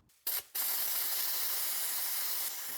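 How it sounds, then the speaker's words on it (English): A handheld sandblaster spraying medium grit garnet abrasive onto rusty chassis rails of a Mitsubishi Evo 6, two short bursts followed by a long loud continuous hiss up close. "on those spots I'll try out my old handheld sandblaster"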